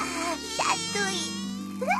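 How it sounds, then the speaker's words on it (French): Buzzing flying insect sound effect from a children's cartoon, a thin wavering whine that swoops up and down in pitch over a faint musical background, with no talking. "Il bourdonne et vole en te chatouillant le nez"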